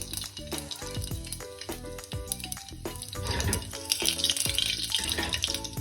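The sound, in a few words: whole spices frying in oil on low flame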